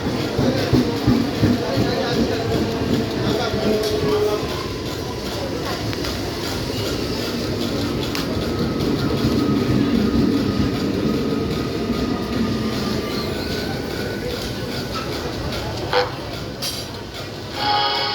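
A down Bandel–Howrah local train rumbles into Hooghly railway station, a steady heavy clatter of wheels and carriages lasting throughout, with distant voices and announcements faintly underneath.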